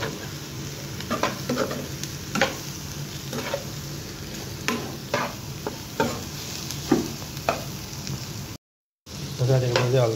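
Dried sukuti meat fries in a pan with turmeric and salt, a steady sizzle broken by repeated scraping strokes of a spoon stirring, close and moderately loud, with a brief gap of silence near the end.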